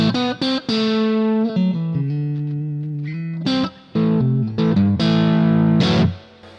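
An electric guitar plays short chords and sustained notes with a boosted, slightly gritty edge, loud and close, with brief pauses between phrases.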